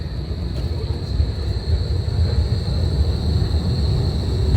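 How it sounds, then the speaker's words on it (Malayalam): Rumble of a tram rolling along a city street in Berlin at night, a steady low drone that carries through the few seconds with no clear approach or fade. "നടുക്കി കൂടെ ട്രാം പോവാ"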